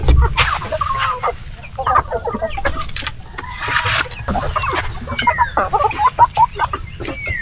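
Black Australorp and Rhode Island Red chickens cluck and chatter busily on a farm, close and lively, with overlapping short calls and brief louder squawks.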